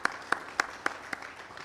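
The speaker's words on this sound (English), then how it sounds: "Let's give her another round of applause." Five sharp, evenly spaced hand claps ring out at a steady rhythm over a quiet room at a livestreamed conference, sounding like one or a few people clapping rather than a full crowd.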